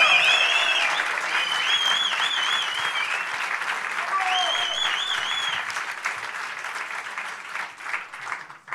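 An audience gives a sustained ovation after a short film screening at a debate on artificial intelligence: loud, dense clapping with a few whistles and cheers near the start, slowly thinning out toward the end.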